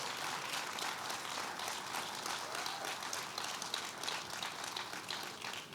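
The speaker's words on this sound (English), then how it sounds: "Let's give him a big round of applause." An outdoor audience applauds at the grand opening of Pier 76 on Manhattan's western shore, a continuous dense patter of many hands clapping at a moderate distance for several seconds.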